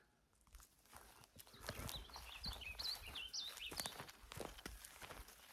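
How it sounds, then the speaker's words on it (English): Birds chirp in short bright phrases in the backwoods of a ranch, fairly faint, over crunching footsteps and rustling on the ground. "Listen to those birds."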